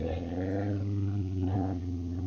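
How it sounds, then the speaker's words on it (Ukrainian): Brown bear roar played for a children's zoo animal lesson: a continuous deep, rumbling growl with strong low harmonics, loud and close, steady throughout with slight swells, no talk over it. "Так кричить ведмідь. Слухай."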